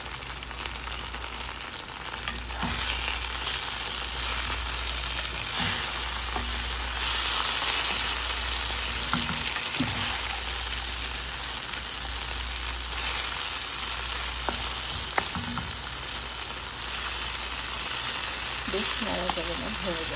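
Masala okra (bhindi) sizzles steadily as it fries in a pan, a continuous dense crackle with occasional stirring scrapes, heard close and loud throughout.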